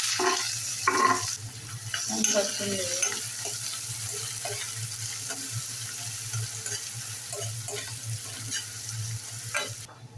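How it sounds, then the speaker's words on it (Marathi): Finely chopped onion frying in a pan for Malvani chicken curry, a continuous soft sizzle with scattered scraping and stirring clicks, a faint voice briefly audible near the start. "आता आपण बारीक चिरलेला कांदा घालूया"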